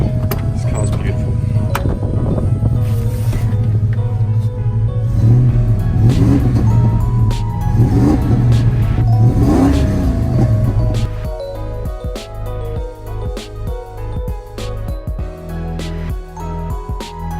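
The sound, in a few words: Holden VN Commodore car engine running and revving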